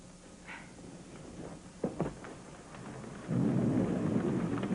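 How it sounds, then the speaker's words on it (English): Rain falls steadily, then pours harder near the end, while a couple of sharp cracks and low rumbles of thunder break through in the middle. "Rain. Lots of it."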